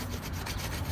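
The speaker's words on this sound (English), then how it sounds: "all I'm gonna do is just scrape all this stuff off and get this as clean as possible" Scraping calcium buildup off a plastic RV toilet part gives a close, continuous gritty rasping with quick rhythmic strokes, heard alone without talk.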